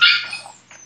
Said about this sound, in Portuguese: Ele late tanto.